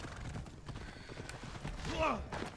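A horse's hooves clip-clop in the Assassin's Creed Odyssey video game, a faint steady rhythm under game ambience and talk, with a brief whinny near the end.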